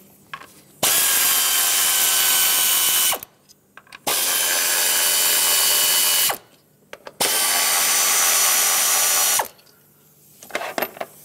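A power tool unbolting the ignition coils on a 1997-2003 Lexus ES300 engine during a valve cover gasket job, three loud, close bursts of a couple of seconds each, separated by short pauses.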